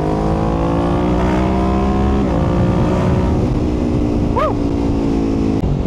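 Kawasaki Ninja 650 motorcycle engine while testing its quick shifter, a steady close drone with a quick pitch step at a shift and a brief rev blip, loud throughout.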